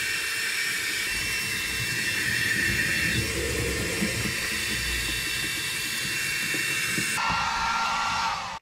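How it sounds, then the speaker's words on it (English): A heat gun blows steadily on the vinyl headliner of a 1971 Super Beetle, a loud, continuous airy roar and hiss that holds evenly for several seconds before cutting off abruptly at the end. "Using the heat gun here to release some of the wrinkles from the vinyl"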